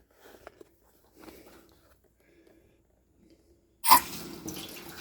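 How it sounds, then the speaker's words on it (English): Water rushes from a repaired sink faucet, turning on abruptly and running in a steady hiss after a few seconds of quiet, faint clicks. "So now we got a nice flow of hot water"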